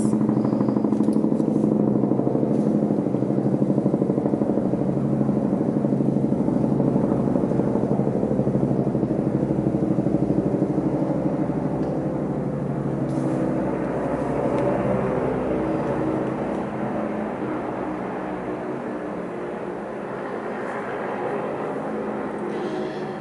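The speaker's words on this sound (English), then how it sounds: "It's a pretty loud airplane or helicopter" A loud, steady engine roar from an aircraft overhead fills the recording, slowly fading a little as it passes.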